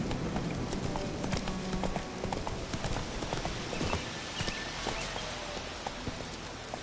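Hooves of the horse Roach clip-clop in a steady, quick rhythm as it runs in The Witcher 3, close and continuous under game ambience.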